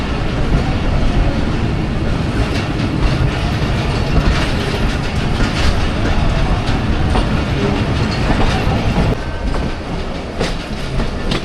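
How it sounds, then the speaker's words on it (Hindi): The 47 Up Rehman Baba Express approaches Hafizabad railway station with a dense, loud, continuous roar of rolling carriages and rhythmic mechanical rattling, easing slightly near the end. "दिन के 1:25 हाफजाबाद रेलवे स्टेशन पे अप्रोच बना रही है 47 अप रहमान बाबा एक्सप्रेस"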